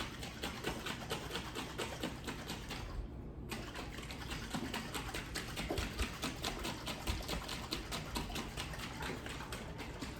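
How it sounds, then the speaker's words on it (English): A lidded container is shaken hard to mix a dressing, giving a fast, steady rattling and sloshing rhythm that runs for about ten seconds with one brief pause, fairly faint and close, with no talking. "So I'm just gonna put the lid on it, give it a good shake."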